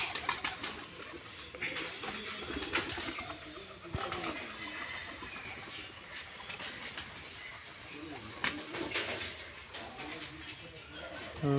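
Giribaj pigeons coo softly in a Rajshahi flock, low throaty calls scattered under a noisy backdrop with occasional wing flutters, fairly faint and distant.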